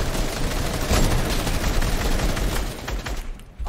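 Dense, continuous gunfire crackles in a Fortnite match, rapid overlapping shots and bursts filling the mix at close range with no pause.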